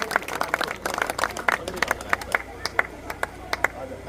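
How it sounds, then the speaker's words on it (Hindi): A crowd at a village political gathering claps, at first in a loose burst, then thinning to scattered single claps, while someone speaks over the noise on a loudspeaker. "जोरदार तालियां बजाए।"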